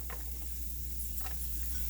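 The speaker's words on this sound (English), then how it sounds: "First thing we're going to do is toss our onions in." Onions sizzling in a hot pan while cooking sloppy joes, a steady close frying hiss with a couple of brief stirring clatters, no talking.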